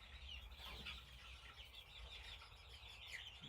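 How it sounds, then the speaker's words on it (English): A chicken clucks faintly and softly while settling to roost for the night, low murmuring calls in a quiet coop. "Got one last chicken looking for a place to roost up there."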